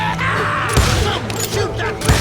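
Rapid gunfire bursts from the Western shooter game Call of Juarez Gunslinger, loud and near, with a voice talking over the shots.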